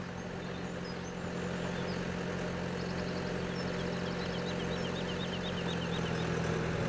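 A low, steady tractor engine idle in Farming Simulator 17 drones on continuously at a moderate distance, with a faint mechanical chatter and no speech.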